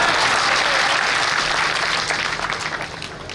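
Loud, sustained applause from a live audience filling the room, dense and steady before easing slightly toward the end, with no voices over it.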